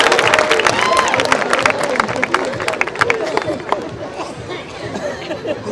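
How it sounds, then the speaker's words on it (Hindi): A comedy show audience claps and cheers, a dense burst of applause that thins over a few seconds under crowd chatter and a voice. "ताली बजाओ भाई साहब, आप ही के लिए बोलो।"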